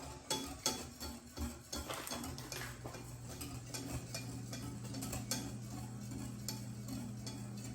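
A whisk stirring chocolate trifle mixture in a bowl, giving faint rhythmic clinks and scrapes, clearest in the first few seconds, then settling into a quiet, steady swish with no voices.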